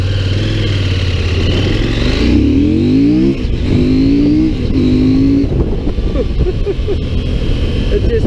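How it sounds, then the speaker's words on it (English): CF Moto MT800 Explore motorcycle accelerating hard in off-road mode, the engine revving up through several rising pulls and gear changes, loud and close with a voice heard over it. "I'll show you the difference in acceleration compared to the sports mode."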